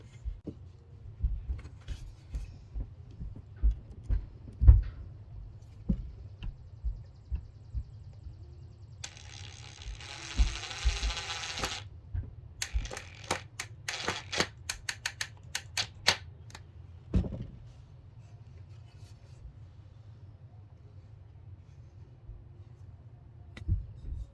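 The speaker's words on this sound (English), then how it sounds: "So now that you've put the screw in on the top of the headboard" A screw is driven into the headboard of a farmhouse-style doll bed, heard as a long series of sharp ticking clicks, with a brief scraping burst in the middle and scattered louder knocks.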